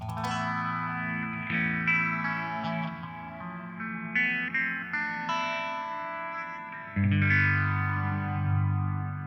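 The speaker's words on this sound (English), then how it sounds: "I have the Terra Echo on the clean, and it's going to be the amp that's in here" An electric guitar through a Terra Echo pedal on a clean amp, playing ringing chords and single notes. Shimmering, chorus-like echoes trail off between strums, and the picking swells again louder near the end.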